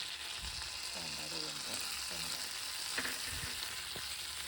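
Drumsticks sautéing in butter give off a steady, close sizzle, with a faint voice talking briefly in the background.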